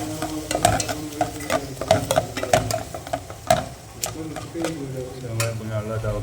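A potato and chicken curry is stirred in a pan, a spoon knocking and scraping the metal in quick, irregular clicks over a low, bubbling sizzle.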